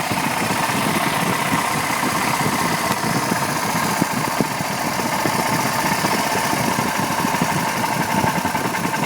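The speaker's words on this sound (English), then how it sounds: "See how low I can make it idle." Yamaha Big Wheel BW200 engine idling low and steady, a continuous close rumble with rapid even firing pulses and no voices throughout.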